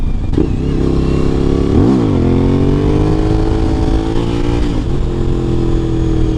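Suzuki V-Strom 1000 sport touring motorcycle engine running steadily and loud, with a couple of brief revs rising and falling in pitch, heard alone without talking.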